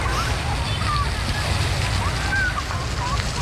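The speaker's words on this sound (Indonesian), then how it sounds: "banyak yang menyaksikan air terjun polos ini menari-nari" Water splashing from a city fountain in Bukittinggi, a continuous loud wash of sloshing spray with a faint whistle-like tone drifting above it.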